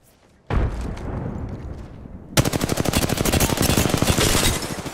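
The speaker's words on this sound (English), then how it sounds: "Shooting down at somebody." Gunfire in Apex Legends: a sustained burst of noise gives way to a loud, rapid automatic weapon firing continuously to the end, close and dense.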